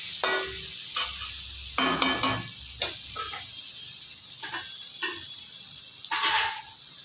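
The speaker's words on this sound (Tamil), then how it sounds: "இப்போ நம்ம சாதத்தை கொட்டிடலாம்." Cooked rice tipped into a pan of sizzling vegetables, with scraping and tapping utensil strikes against the pan over a low steady sizzle and a few louder clattering bursts.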